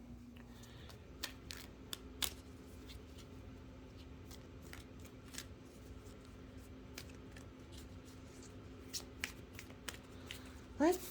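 Oracle cards are shuffled by hand in a series of quick, soft riffling bursts and taps, close and fairly quiet, with a faint steady hum underneath and no talk.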